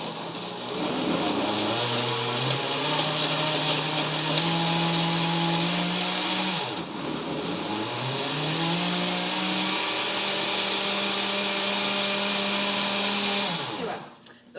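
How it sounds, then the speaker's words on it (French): Blender mixing an oatmeal smoothie, a loud, steady whirring motor that runs alone for about fourteen seconds, its pitch shifting and dipping briefly midway before winding down. "Donc, on va commencer à mixer."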